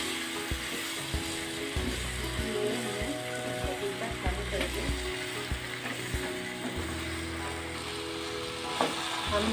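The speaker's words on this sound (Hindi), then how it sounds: "हम इसे एक मिनट ऐसे मसाला मिलाते हुए भूनेंगे, ढकेंगे नहीं" Papaya sabzi roasting with masala in an uncovered pan, with a steady sizzle and scraping, clattering stirring strokes throughout, under a faint voice.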